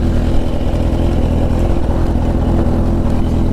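A powerful sportbike, a 300-horsepower H2 or a 500-horsepower turbo ZX14R, roars at full throttle in a half-mile race, a loud, steady, droning engine note that fills the whole stretch without a break.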